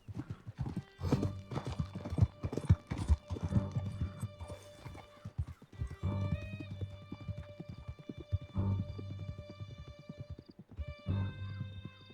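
Horse hooves clip-clopping at a steady riding pace in the video game Red Dead Redemption 2, close and continuous, with a whinny and jingling tack over the rhythm.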